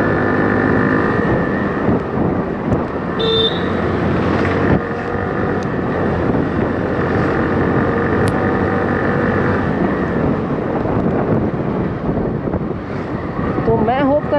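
Hero Glamour 125 BS6 motorcycle, a 2023 model, with its engine revving and pulling in a steady, continuous drone throughout, mixed with heavy wind buffeting from riding.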